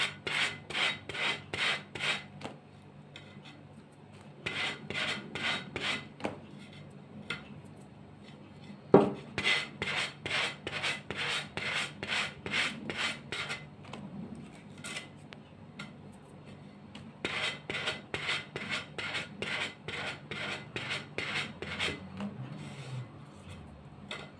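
Repeated bursts of rasping sanding scrape back and forth as sponge sandpaper smooths the edges of an old plate, in quick rhythmic strokes, pausing briefly between sets, close and fairly loud.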